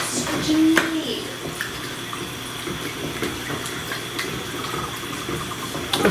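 Milk pours steadily into a gravy pan for a white sauce, giving a continuous liquid splashing wash that lasts about six seconds with small clinks along the way.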